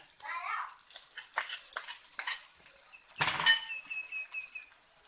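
Dried chilies hit hot oil in a wok for a Thai pork belly holy basil stir-fry. A soft, steady sizzle carries through, with scraping and clinks of a metal spatula and one louder clatter partway through.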